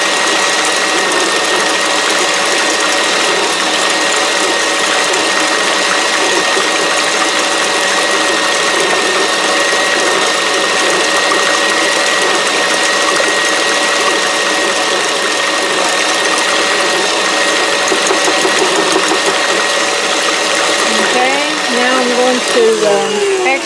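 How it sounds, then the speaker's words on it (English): An electric mixer churns banana nut bread batter with walnuts and pecans, a loud continuous motor whir and rattle running steadily for the whole stretch, with a slight change in tone near the end. "I'm just mixing it around like so. So I get it really mixed thoroughly."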